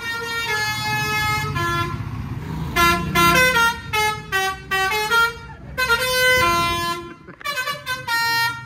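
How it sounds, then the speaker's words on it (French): Vehicle horns honking in busy street traffic in Venezuela as a bus arrives: repeated loud, tonal blasts of several horns overlap and stop-start in an uneven rhythm, with voices faintly audible underneath. "Et là ils veulent que ça klaxonne."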